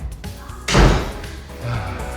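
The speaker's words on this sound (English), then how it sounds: "Close the door." A door in a renovated house hallway closes with a single loud slam and thud, followed by a short rumble as it settles, with quiet room tone around it.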